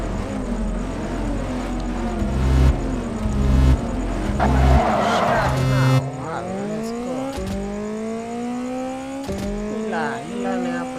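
Racing video game audio with race car engines revving and shifting pitch, rising whines after gear changes, and bursts of tire squeal and skidding, loud and continuous throughout.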